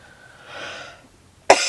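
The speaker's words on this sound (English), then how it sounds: "Sorry about the cough." A sick person lets out one short, sharp cough close by, following a stretch of soft breathy rustle during a watercolor painting session.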